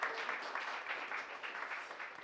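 Polite applause at a Korean forum on anti-disability-discrimination law, a soft, fairly distant patter of clapping from a seated audience, steady and faint throughout.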